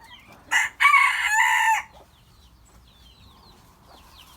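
A hen gives a short squawk and then a loud, drawn-out crow-like cackle nearby, followed by quieter clucks and faint bird chirps.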